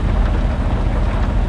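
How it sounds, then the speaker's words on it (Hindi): Heavy rain and a thunderstorm in the Euro Truck Simulator 2 game, a loud, dense, continuous roar of rain with low rumbling underneath, heard close and alone without talk. "बारिश तेज हो गई"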